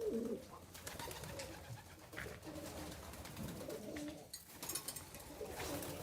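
Several pigeons coo softly in low, rolling repeated calls at a shelter housing about forty birds, faint and close, with rustling between the calls.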